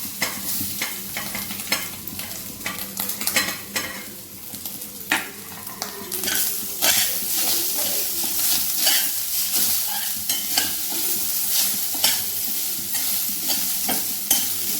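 Grated coconut with cashews, almonds and cardamom roasting in ghee in a pan, a close, steady sizzle broken by frequent scraping stirs throughout.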